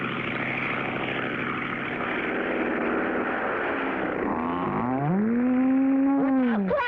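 A cartoon propeller plane drones steadily, then its engine pitch swoops down and back up as it banks or passes close by, dropping low to drag a field before landing.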